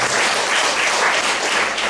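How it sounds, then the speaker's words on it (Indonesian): Steady, dense applause from a large congregation at a prayer service, loud and sustained without a break. "Beri tepuk tangan dulu untuk Tuhan"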